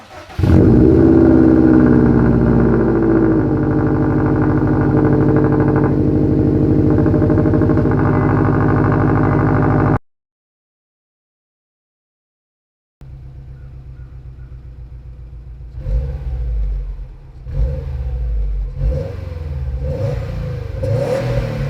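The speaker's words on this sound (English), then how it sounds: "Let's go ahead and give her first cold start." A Subaru STI fitted with a Remark resonated catback exhaust roars loudly through a cold start for about ten seconds, falls silent briefly, then settles into a rumbling idle with a few short blips of throttle.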